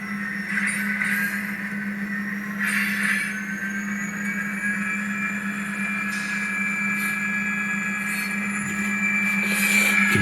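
An HO scale model train running up a grade into a siding, a steady electric motor hum with whining wheel squeal and faint clicking of cars rolling over track, loudness rising slightly as speed is added.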